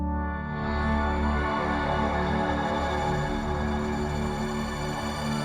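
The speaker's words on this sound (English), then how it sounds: "a Valhalla shimmer reverb, I think." A music production sample drenched in Valhalla shimmer reverb forms a dense, bright, sustained tonal wash of layered pitched harmonics that swells in and holds steadily, with no speech.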